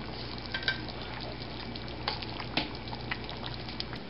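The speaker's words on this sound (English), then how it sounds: "I'm going to mix it up, and it's going to start looking like something." Chili being stirred in a cooking pot, a continuous soft sizzle with scattered scraping and clinking of the spoon against the pot, close and fairly quiet with no talking.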